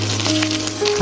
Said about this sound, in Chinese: 油热之后把米饭加进来， 然后像这样用铲子把它按压一下